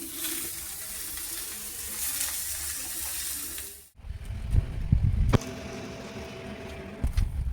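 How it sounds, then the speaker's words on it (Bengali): Fish paturi wrapped in banana leaf sizzles and hisses steadily in a frying pan, then goes quiet briefly before clattering and a renewed, lower bubbling after it is flipped. "এইটা উল্টিয়ে দিচ্ছি উল্টিয়ে আবার বসিয়ে দিচ্ছি"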